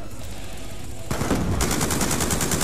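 Turret gunfire in Black Ops II, a rapid automatic burst that kicks in partway through and builds into a fast, steady stream of loud shots after a quieter stretch.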